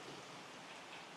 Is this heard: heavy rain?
yes